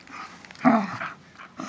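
A bulldog shepherd mix grumbles and whines while being petted, giving a few short, close vocal bursts with brief quiet gaps between them.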